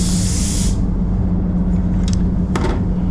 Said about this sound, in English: So go with this air blower,